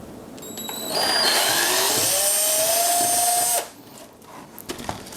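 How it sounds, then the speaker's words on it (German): A power drill with a 5 mm bit whines at high speed for a few seconds, widening a hole, its pitch shifting as it bites in, then stops, leaving quiet room noise. "Deswegen spanne ich jetzt doch erstmal einen 5er Bohrer ein."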